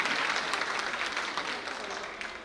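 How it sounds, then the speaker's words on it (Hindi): An audience at a kalash yatra religious gathering in Bhopal claps loudly and steadily, a dense wash of applause with no pauses. "जोरदार ताली बजा करके आपका सम्मान कीजिए"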